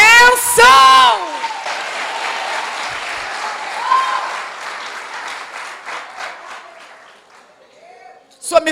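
A church congregation applauds enthusiastically in a large hall, with a loud sung or shouted voice at the start, then sustained clapping that gradually fades out.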